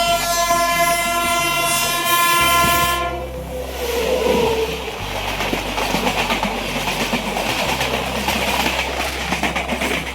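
A Naihati local passenger train pulls into Ichapur station platform 1, opening with a loud sustained horn blast, then the rumble and clickety-clack of wheels on rails as the train rolls in close by.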